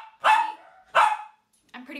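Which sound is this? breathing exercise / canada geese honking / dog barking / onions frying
dog barking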